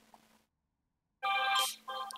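A phone rings with two bright electronic bursts, separated by a short gap, after a moment of near silence. The ring sounds close and clear with no talking.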